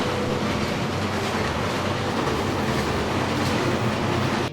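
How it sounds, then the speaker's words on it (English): A cartoon train pulls in with a steady, loud clickety-clack of wheels on rails and a constant rumble, heard alone without any talking. "Buggy the train is just about to arrive"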